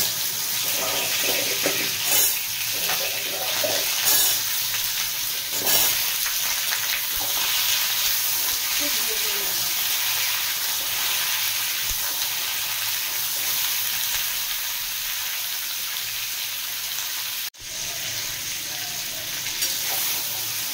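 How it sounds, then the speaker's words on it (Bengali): Hog plums fry in hot oil after a tempering of chillies and mustard seeds for chutney, a loud continuous sizzle and crackle with occasional stirring scrapes, close up. "এবার আমি আমড়াগুলো তেলের মধ্যে দিয়ে দেব।"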